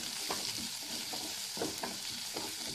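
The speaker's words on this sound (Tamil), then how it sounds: "கொஞ்சம் கருவேப்பிலை தழை இதெல்லாம் போட்டு நல்லா ஃப்ரை பண்ணிக்கோங்க" Chillies and curry leaves fry in oil in a pan for carrot poriyal, a steady close sizzle broken by rhythmic scraping strokes of a spoon stirring.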